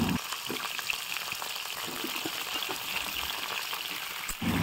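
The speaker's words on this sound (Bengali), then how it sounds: "তেল গরম করে নিয়ে তাতে আমি পটলগুলো ছেড়ে দিচ্ছি" Pointed gourd (potol) pieces frying in hot oil for a dudh potol dish, a steady, close sizzle with fine crackling that runs evenly throughout and briefly dips near the end.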